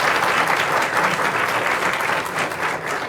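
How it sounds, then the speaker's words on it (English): Sustained audience applause at a food justice summit, a dense wash of clapping from many hands heard up close, continuous throughout with no talking. "Just a final round of applause for Benita."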